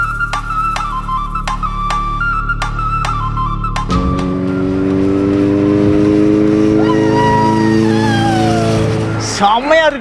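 A Suzuki Hayabusa superbike accelerates hard through its gears, its engine note rising and climbing steadily in pitch, loud and close, with voices talking over the ride.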